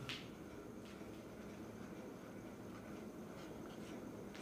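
Quiet writing strokes scratch on a board during a university dynamics lecture on moment and product of inertia, soft and continuous over a low room hum with no speech.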